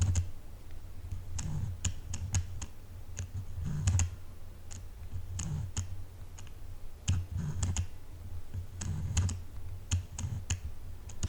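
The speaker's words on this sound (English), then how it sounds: "the autofocus noise is crazy." Tamron 20mm F2.8 camera lens hunting for focus, producing soft irregular clicks and ticks, some in quick pairs and clusters, faint and close against a quiet background hum.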